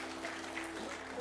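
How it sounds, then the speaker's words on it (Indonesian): Congregation applause during an onsite church worship service, a continuous blur of many hands clapping at moderate volume with a faint held tone underneath. "Beri tepuk tangan yang meriah buat Tuhan."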